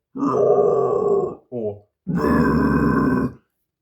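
Two long, low, guttural false chord screams from one voice, close and loud, separated by a brief shorter growl, with no talking around them.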